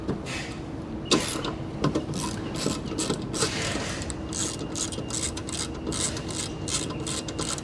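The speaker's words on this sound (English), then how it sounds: "You'll need a 12mm socket to get those off, so we'll go ahead and take that off." A ratchet on a 12mm socket backs M8 bolts out of a reversing camera bracket on a Toyota Prado 150. Rapid, steady clicking runs throughout, fairly quiet and close.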